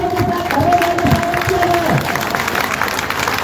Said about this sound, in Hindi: वक्ताओं के अगली कड़ी में तालियों के साथ